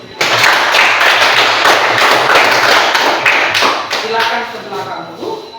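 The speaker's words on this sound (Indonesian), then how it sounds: "Sekali lagi berikan aplaus untuk kita." Students in a classroom applaud after a group science presentation, a loud burst of clapping that fades toward the end, with voices mixed in.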